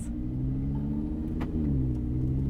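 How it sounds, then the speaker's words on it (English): Audi R8 Performance pulling away on the road, its exhaust giving a deep, steady droning rumble with layered low tones, close and loud, holding at a constant level with a slight rise as it moves off. "That exhaust sounds so good."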